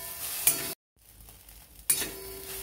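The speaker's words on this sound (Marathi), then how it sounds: "आपण आता खिचडी थोडीशी परतून घेणार आहोत" Khichdi is stirred and sautéed in a pan for a fasting thali meal, with a soft steady sizzle and a few scraping strokes broken by a brief silent gap midway. No one speaks.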